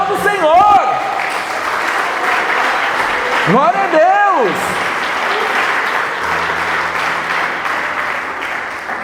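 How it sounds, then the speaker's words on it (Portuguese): A church congregation applauds steadily throughout a Brazilian evangelical service, a dense, sustained clatter of many hands filling the room while a pastor's amplified voice rises over it in short exclamations. "aplauda o Senhor"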